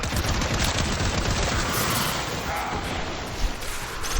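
Rapid gunfire in Warframe, a sci-fi shooter game, rattles on continuously and loudly at close range, a dense unbroken stream of shots with no pauses and no talk over it.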